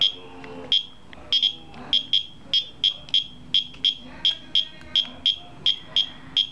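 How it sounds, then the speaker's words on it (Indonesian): Buzzer effects from an LED ping-pong game, sharp high electronic beeps repeating in a fairly steady rhythm, loud and close over a faint background hum. "Nah, untuk efek suara pada bola pingpong."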